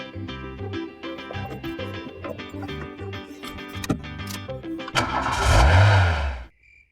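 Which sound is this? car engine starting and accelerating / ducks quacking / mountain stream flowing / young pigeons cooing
car engine starting and accelerating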